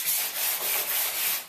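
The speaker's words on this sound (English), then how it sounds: "give the door surface a hit with the sanding sponge" A sanding sponge rubs steadily over a door surface during house-painting prep, giving a continuous close, scratchy hiss with slight rhythmic strokes and no voices.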